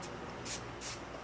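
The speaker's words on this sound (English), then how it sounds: "I just spray it all throughout my hair." Two short, soft hisses of Tresemme heat protector spray misted onto hair, each a quick puff about a third of a second apart, faint and close up with a quiet background.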